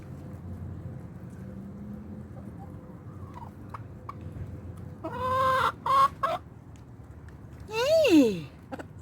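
Backyard chickens eating treats, soft scattered clucks building into a few loud, close squawking calls near the end over a quiet outdoor background.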